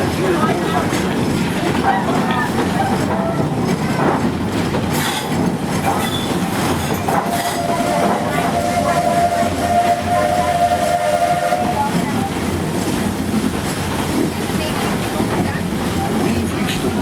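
Magic Kingdom steam train No. 3 Roger E Broggie rolling along loudly with rumbling wheels and clacking rails, a sustained whistle sounding midway, while a voice talks over it.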